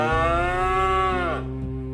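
A cow in a cattle pen bellows in distress: a single loud, long, close moo with strong harmonics that sustains and then trails off, with no voices.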